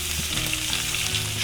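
Carrots and leek sauté in a hot pan with a dense, loud, continuous sizzle and crackle, steady throughout and with no talking.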